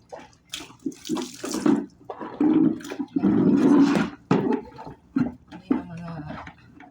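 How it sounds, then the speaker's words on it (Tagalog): A small kitchen trash bin is rinsed with running water, bursts of splashing and gushing from a tap coming and going, loud and close, with a voice talking in between. "Kailangan kong paliguan ang mga trash bin sa kusina"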